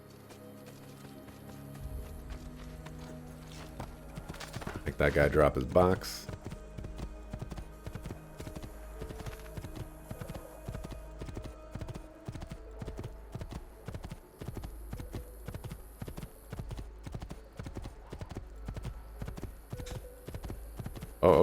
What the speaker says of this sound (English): Let's go ahead and steal a horse.